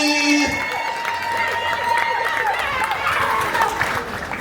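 Wedding guests at a religious ceremony break into steady, dense clapping and cheering that fills the room right after a voice speaks, with the crowd's chatter mixed through it.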